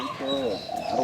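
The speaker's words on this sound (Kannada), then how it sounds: "ಪಕ್ಷಿಗಳ ಚೀರಾಟ" Birds calling around a quiet temple set among plantation gardens, with cooing pigeon or dove notes and thin chirps running through a short one-second stretch over faint background murmur.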